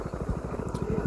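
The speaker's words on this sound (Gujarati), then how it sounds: "આપણે બાઇક લઈને હેડ્યા છીએ" Motorcycle engine running steadily on a rural road, a close, continuous low pulsing drone with regular rhythmic beats and no gaps.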